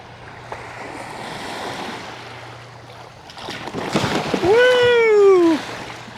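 Rough water on the Missouri River slaps and splashes around a kayak, building from steady wind and wash into a louder surge near the end, with a brief tonal whoop of voice as a big wave hits.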